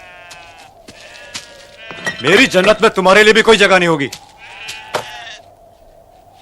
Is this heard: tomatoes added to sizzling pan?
no